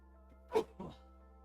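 A quick two-part sneeze, a sharp burst then a softer follow-through, close to the mic against a steady low hum.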